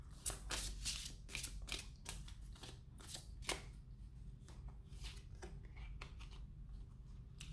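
Tarot message cards are handled and shuffled close by, giving quick papery flicks and soft slaps over a quiet room, with no voice.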